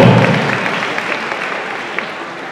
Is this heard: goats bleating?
no